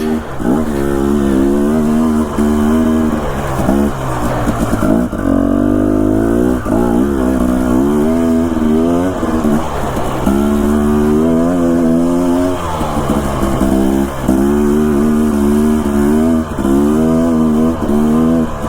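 A motorcycle climbs a steep trail in Idaho in winter, its engine droning loudly and steadily close up, the revs rising and falling with repeated gear and throttle changes and no voices over it.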